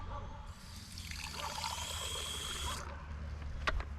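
Water pours into a small jar for rooting plant cuttings at a homestead garden, a steady splashing trickle lasting a couple of seconds before tapering off, heard fairly close.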